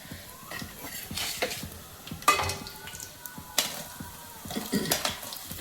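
Onions and green chillies sizzle in a tempering of dried red chillies and cumin, with steady frying hiss broken by a few sharp clinks of a spoon against the pan.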